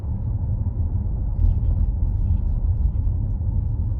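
A Toyota bZ4X electric car drives over an uneven, poorly levelled road. It makes a low, continuous tire and road rumble with a few soft bumps, and no voices are heard.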